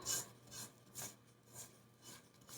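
A spatula scraping Kentucky butter bourbon pound cake batter down the sides of a mixing bowl, making soft, quiet rasping strokes in a loose rhythm of about five passes, with no talking.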